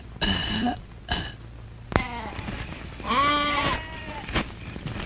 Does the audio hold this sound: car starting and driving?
no